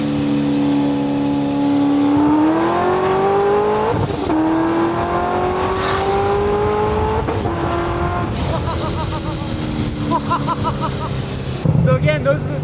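Modified car on Toyo Proxes RR semi-slick tires, engine loudly revving and pulling through gears with rising pitch, shifts audible, tires squealing toward the end, close and dominant, with brief voice in the cabin.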